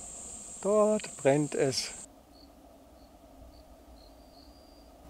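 Crickets chirp at night near a campfire in Namibia's Kaokoland, faint, sparse trills heard after a man's short spoken phrase, over a low steady background hiss.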